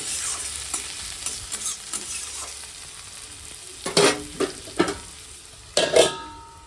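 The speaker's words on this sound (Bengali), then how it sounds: "কালো জিরে ফোড়ন দিয়ে পেঁয়াজ লঙ্কা একটু আলু ভাজা করছি" Potato fried with onion and green chili over black cumin seeds: a soft, close sizzle under repeated spatula scrapes and clatters that grow louder and sharper toward the end, with no talking.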